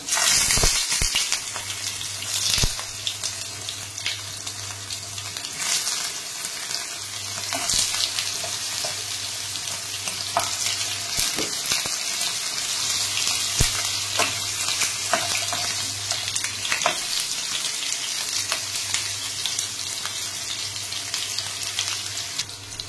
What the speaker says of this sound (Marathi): आपण आता पनीरचे तुकडे तळून घेऊया।